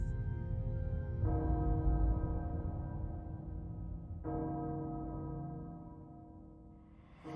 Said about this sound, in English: Castle Bell heralds danger.